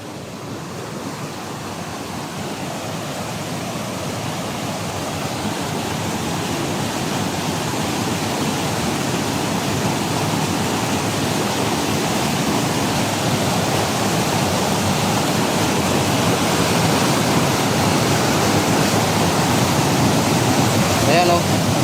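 Strong floodwater current rushes during Typhoon Uwan in Mindoro, a dense, continuous roar that stays close and grows slightly louder throughout.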